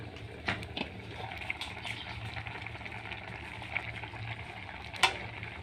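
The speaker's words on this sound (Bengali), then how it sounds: "বলক উঠে গেছে।" Liquid boiling in a pot on a stove, a steady close bubbling and sizzling hiss with a few sharper pops and clinks, running continuously without talk.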